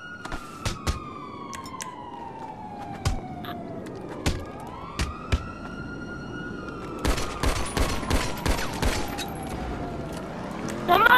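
Gunfire in GTA Online: sharp shots crack out singly and in quick bursts across a city street, with a police siren wailing and sweeping beneath, growing denser toward the end.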